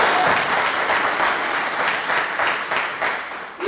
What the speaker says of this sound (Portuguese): Quem pode bater palmas para o Senhor Jesus?